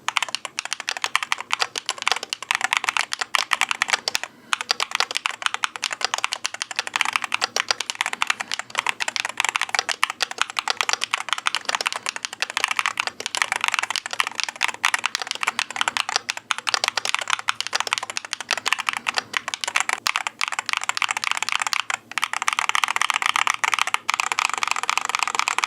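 Someone types fast and steadily on an ALUX68 keyboard with magnetic switches, giving a close, crisp, clicky patter of keystrokes with no talk over it.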